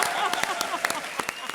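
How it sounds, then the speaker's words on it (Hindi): Audience applause on a comedy show stage, scattered hand claps in quick bursts, fairly faint, with voices talking over them. "दी एंड 250 करोड़ तालियां"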